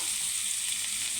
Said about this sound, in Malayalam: അരിഞ്ഞു വെച്ചിരുന്ന സവാളയും എല്ലാം ഇതിനകത്തേക്ക് ഇടാം